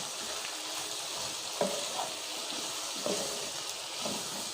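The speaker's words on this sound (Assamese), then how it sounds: "এয়া মাংসটো ভাজি থাকিব লাগিব।" Chicken meat frying in a pan over low gas, with a steady sizzle and a few soft stirring knocks.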